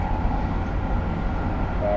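A train horn sounds in the Train Simulator video game, entering only near the end as a steady tone over a continuous low locomotive engine rumble.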